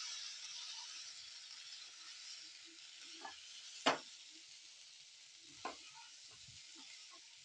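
Idli pieces fry in a pan for idli 65 with a faint, steady sizzling hiss, broken by a few scraping stirs of a utensil, one sharper knock standing out near the middle.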